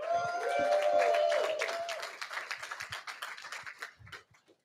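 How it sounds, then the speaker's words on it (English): Scattered clapping from a small crowd at a ribbon cutting for a reopened locker room and pool, starting under a sustained tone and then thinning into separate claps that fade out. "We can clap now."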